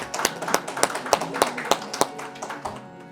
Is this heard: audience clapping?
yes